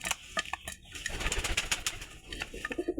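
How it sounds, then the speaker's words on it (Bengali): A flock of pigeons coos and flutters while pecking at rice, a busy close jumble of soft calls, wing flaps and scuffling, continuous without speech. "মেলা দিন পরে কবুতরকে ভাত খেতে দিলাম"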